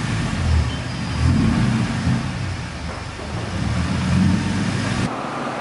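A car engine on a dyno, fitted with an exhaust silencer, drones in a muffled, steady roar with gentle rises and falls in revs before dropping off near the end.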